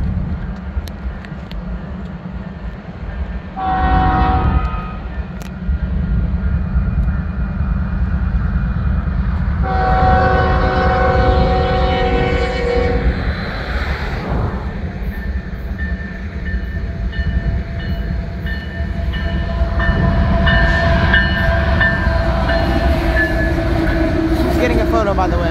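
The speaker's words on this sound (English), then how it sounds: "There's another train right over here." A Union Pacific freight train of gondola cars, led by KCS 4621, rumbles past nearby at Roseville, California, with a steady low roar and rattling cars, and a horn-like tone briefly rises above it.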